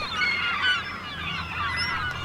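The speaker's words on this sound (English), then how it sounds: "As soon as I launch, I see a swirl of gulls along the shore." A flock of gulls along the shore of Howe Sound, with seals and a sea lion among them, gives steady overlapping squealing calls that carry on without a break.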